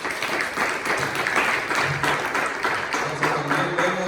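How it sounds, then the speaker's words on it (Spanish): Church congregation clapping during a sermon, a continuous, moderately loud spread of hand claps with some low voices or tones mixed underneath toward the end. "Denle un fuerte aplauso"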